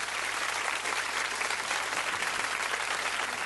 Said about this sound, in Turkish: Bir alkış versene kaleme.